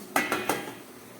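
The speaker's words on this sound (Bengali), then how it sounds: "এবার এর মধ্যে আমি একটা ফুটো থালা দিয়ে দিচ্ছি" A metal plate with holes is set over a pot of boiling water, giving three quick, close clinks of metal on metal in succession.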